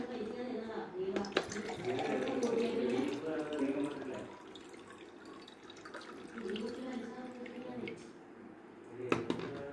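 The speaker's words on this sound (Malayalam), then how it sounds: "വെള്ളം നമുക്ക് ഇതിലോട്ട് ഒഴിച്ചു കൊടുക്കാം" Two glasses of water pour steadily into a pot for an herbal decoction with a hollow splashing rush, close and moderately loud, with a few clinks at the start and end.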